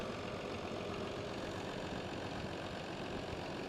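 A 1961 Farmall 560 diesel tractor with a narrow front end runs steadily at a parade of power, its engine producing a continuous low rumble under broad noise with no pauses.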